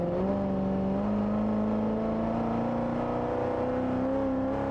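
Modified C7 Corvette Z06 under hard acceleration, a loud, steady engine drone heard from inside the car, with the pitch climbing smoothly throughout and no talk over it.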